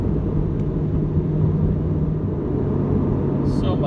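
A C8 Corvette cruises gently along a scenic road during a dry summer, its engine and road rumble a steady, close, low drone throughout, with someone talking over it.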